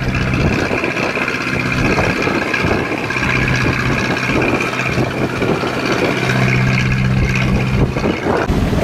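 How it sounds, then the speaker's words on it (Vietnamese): Fishing net boats motor into the harbour at Dương Đông, their engines chugging in a steady, fairly loud drone with a low throbbing hum that persists throughout. "Ở đây có hai chiếc ghe đang chạy vô nữa nè, cũng là đánh lưới luôn đó."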